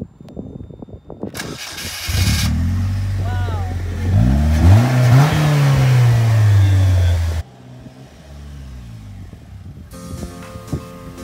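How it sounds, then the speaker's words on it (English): A 2019 Polaris Slingshot with a 5-speed manual fires up from push-button start, cranks briefly, then catches and revs in rising and falling sweeps before cutting off, followed by quieter sounds. "Got a 2019 Polaris Slingshot. 5-speed manual. We got push to start."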